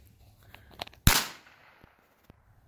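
A single sharp gunshot from a new gun during target practice cracks out close by, followed by a brief fading echo, with faint clicks and handling noises before and after.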